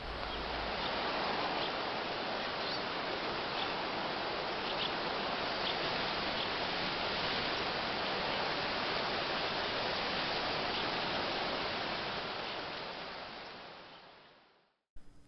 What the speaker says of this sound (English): listening to the wind as it blows through the leaves on these plants